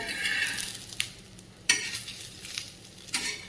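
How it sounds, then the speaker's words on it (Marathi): Drumstick-leaf and coriander vadis shallow fry in a pan and get flipped over, giving a soft sizzle broken by a few sharp utensil clicks and scrapes at irregular moments. "आपण हे वड्या सगळ्या शालो फ्राय करतोय आता आपण त्या उलटून देऊया"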